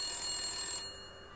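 Electronic telephone ring from the video game Maniac Mansion Deluxe, a steady tonal ringing that fills the short moment at moderate level, then drops slightly quieter near the end, with no voices.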